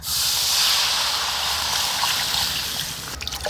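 Water poured into a hot pan while making rava upma gives a loud, steady hiss of sizzle and steam that fades slowly, with a few clinks and clatters near the end.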